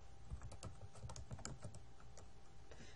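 Fingers type on a computer keyboard in a quiet office, a quick irregular patter of soft close key clicks with no voices.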